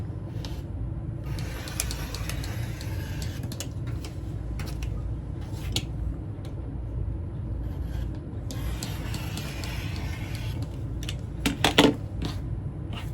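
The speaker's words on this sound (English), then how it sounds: "I'm going to trim the edges" Fabric edges of a quilt block are trimmed, probably with a rotary cutter, in a few rough scraping passes of moderate loudness, mostly around the start and middle, with a couple of small clicks near the end.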